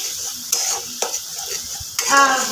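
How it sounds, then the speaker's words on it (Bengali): Spice paste for a catla fish curry fries and is stirred in a pan. A constant sizzle runs under several sharp spoon scrapes and knocks, close and clear with no talking. "পুরো মশলাটা খুব সুন্দরভাবে আমি কষে নেব"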